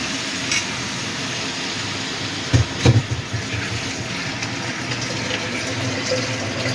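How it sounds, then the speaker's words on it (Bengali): Mutton mince stock, the water the mince was boiled in, poured into a pan of sautéed potato and jackfruit, with a steady wash of liquid and sizzle plus a couple of short clatters partway through. "এবার আমি প্রথমে দিয়ে দিচ্ছি এই কিমা সেদ্ধ করা জলটা"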